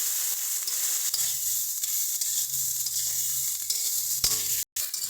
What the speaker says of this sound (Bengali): বেগুনটা একটু ভালো মতো নরম হোক, তারপরে লাল লাল করে ভাজা হয়ে গেলে এটাকে তুলবো